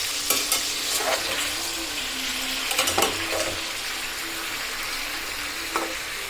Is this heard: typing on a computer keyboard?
no